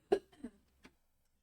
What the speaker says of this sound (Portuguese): Tosse mesmo, né?